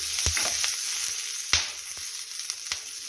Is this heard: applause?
no